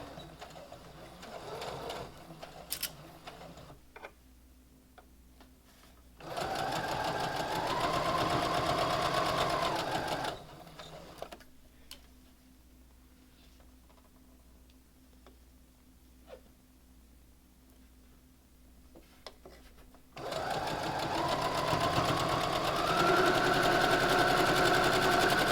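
A sewing machine chain-pieces jelly roll quilt pieces, running in two sustained bursts of steady stitching whir, close and fairly loud, separated by quiet pauses with faint handling noise.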